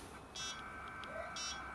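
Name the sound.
beeping from the Atari STE's little internal speaker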